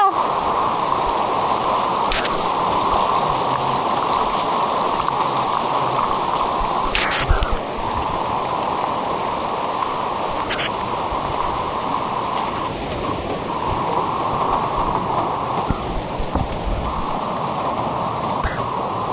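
Flowing floodwater outside a house, a steady broad rush like heavy rain or a running stream, continuous and fairly loud for the whole stretch, with a few brief sharp splashes or clicks.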